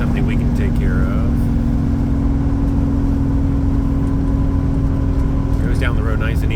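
A 1968 Chevrolet Chevelle SS with its numbers-matching 396 engine and AC cruises along with a steady, even low rumble and road noise throughout, a few faint chirps breaking in now and then.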